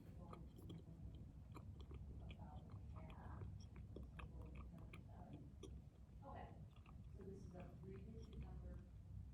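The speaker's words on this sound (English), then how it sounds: "pop it in your mouth once you've taken the wrapper off, chew it up" Bubble gum chewed in the mouth after unwrapping, giving soft, repeated wet smacking and clicking sounds close up, continuing steadily under low background murmur.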